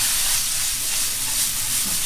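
Bacon dropped into a hot pan for stuffed potato pockets, a steady loud hiss of sizzling fat that holds evenly throughout without speech.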